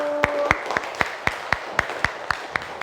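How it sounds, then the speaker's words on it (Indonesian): A classroom group claps together for another group, about ten sharp, evenly spaced claps in a steady rhythm, close and clear with no talking. "Beri tepuk tangan untuk kelompok 1."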